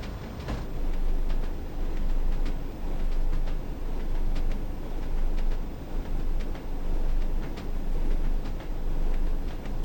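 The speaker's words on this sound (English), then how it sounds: "that clickety-clack noise is flipping awesome" Train wheels in the Train Sim World game on the North Trans-Pennine route give a steady clickety-clack over a continuous rumble, with regular rhythmic clicks throughout.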